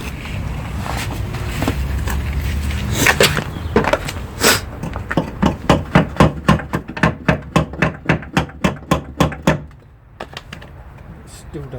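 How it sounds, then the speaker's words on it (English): A hammer taps out a plastic clip on a Mitsubishi 3000GT / GTO side skirt: about twenty sharp, close metallic knocks in a fast, steady rhythm, with a few scattered strikes before them. "just tap out with a hammer."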